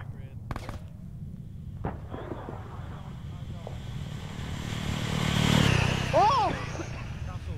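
In a military video game set in 2001, a rocket whooshes past close by. It rises in a rushing swell amid sharp distant gunshots and scattered battle noise, with voices talking over the scene.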